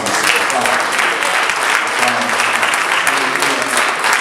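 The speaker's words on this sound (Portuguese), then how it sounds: "Aplauda para você." Church congregation clapping together during a sermon, a dense, steady burst of applause filling the room for a few seconds with no pause.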